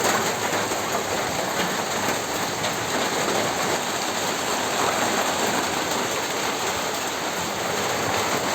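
Steady rain pours down in a village setting, a dense continuous hiss of drops striking surfaces that stays even and fairly loud throughout, with no voices.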